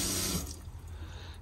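Cold water runs steadily from a camper van sink tap, a close, continuous splashing hiss into the basin with no voices.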